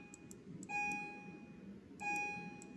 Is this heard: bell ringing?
yes